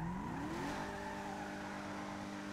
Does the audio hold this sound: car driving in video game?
yes